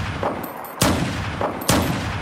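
Two loud .44 Magnum shots in the video game Unturned, spaced under a second apart, each a sharp close blast with a ringing tail over steady background noise.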